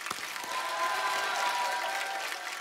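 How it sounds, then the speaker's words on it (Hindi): A large crowd at a televised entertainment show honouring a CRPF soldier applauds steadily for the whole stretch, a dense, even wash of clapping with no one speaking over it. "एक बार जोरदार तालियां हो जाए"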